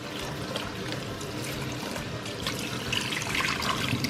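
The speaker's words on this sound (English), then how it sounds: "We're gonna clean the shrimps." Raw shrimp are rinsed under running tap water in a kitchen sink while shrimp Alfredo pasta is being prepared. The water makes a steady, close, continuous rush and splash with no talking.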